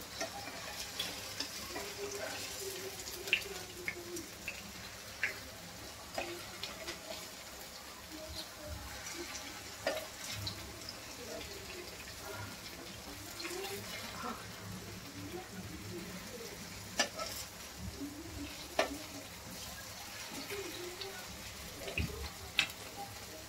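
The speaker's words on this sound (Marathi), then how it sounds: "हे आता याला चांगलं उलट पलट करून आपण शेकून घेऊया." Aloo patties frying in a pan and being flipped over, a soft continuous sizzle with occasional spatula scrapes and clicks, with a voice speaking over it.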